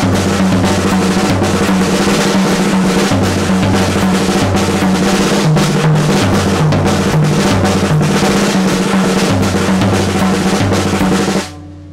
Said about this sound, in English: Exercise two, played up to speed around the drum set, should look and sound like this